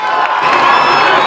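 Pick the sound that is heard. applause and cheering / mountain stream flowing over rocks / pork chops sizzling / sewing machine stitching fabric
applause and cheering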